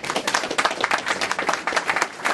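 Audience applause welcoming an environment minister at an eco-refinery expansion event, a dense steady roar of many hands clapping close by without pause.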